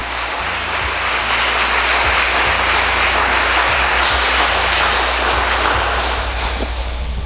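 A church congregation claps together in loud, steady applause that fills the space from start to finish, with no talk above it.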